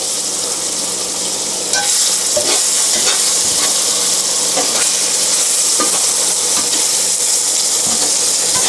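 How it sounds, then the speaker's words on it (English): Battered okra fries in a pan with a loud, continuous sizzle and hiss that jumps louder partway through and carries on steadily, with occasional soft stirring scrapes. "I'm going to turn that down a little bit and just let it fry."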